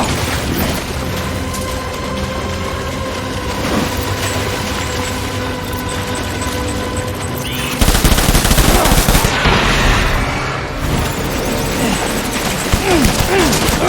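Bursts of gunfire from the video game Death Stranding, sustained rapid shots over a dense game soundtrack, growing louder and harsher in the second half.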